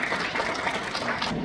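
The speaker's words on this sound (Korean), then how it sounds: "큰 박수 보내주십시오" Steady, dense clapping from an audience at the 2024 OBS Local Autonomy and Decentralization Awards ceremony, greeting a Gyeonggi Provincial Council member receiving flowers; the applause stays even and unbroken throughout, with no voices over it.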